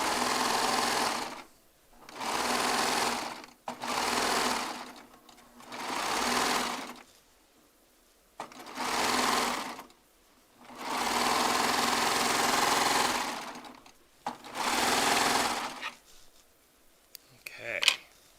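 A Baby Lock Triumph serger runs in repeated bursts of steady buzzing stitching, each several seconds long, separated by short pauses and handling noises, close and loud.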